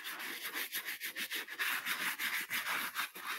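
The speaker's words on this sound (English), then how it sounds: "give these a scrub down, again using our shoe MGK" Scrubbing brush worked over boots with shoe cleaner, giving rapid, rhythmic rasping strokes of a steady scratchy texture, close up and moderately loud with no talking.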